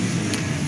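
Recorded car engine idling as if cranked and running, played through a museum display speaker, a brief steady loud hum with a short hiss, no voices.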